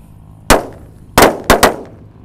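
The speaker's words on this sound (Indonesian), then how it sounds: "Selanjutnya ini ada mercon tongkat kera kaget. Kita nyalakan 5 sekaligus ya." Stick firecrackers of the 'kera kaget' type, five lit together, burst outdoors in four sharp loud bangs: one alone, then a pause, then three in quick succession, each trailing off briefly.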